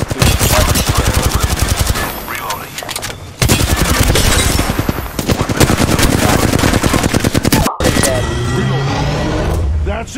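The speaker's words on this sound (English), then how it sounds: "I'm being shot from another squad" Sustained machine-gun fire from an enemy squad in Apex Legends, loud rapid bursts that go on almost without pause, with a short break before the shooting resumes, under talking voices.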